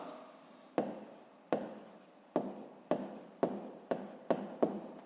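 A pen writes on paper while a fifth-grade math answer is noted down, with about eight crisp, closely miked strokes at a regular pace, each one a sharp scratch that fades quickly.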